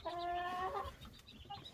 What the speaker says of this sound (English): And then we got some of my new white hens.